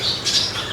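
A red siskin at a Jakarta breeding aviary gives short, bright squawking calls, close and fairly loud, with no talk.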